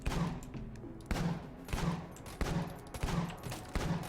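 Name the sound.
Pulse Cannon gun firing in Enter the Gungeon video game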